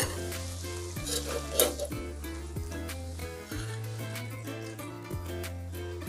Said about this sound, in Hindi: ये थोड़ा कश्मीरी चिली पाउडर लिया हूँ, वो भी डाल देंगे इसमें ताकि अपने करी एकदम कलरफुल हो जाए।